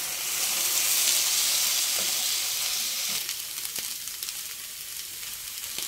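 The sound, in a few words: meat sizzling as it is flipped on the grill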